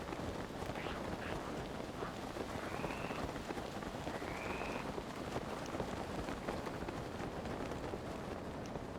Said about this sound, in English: So much rain in this game.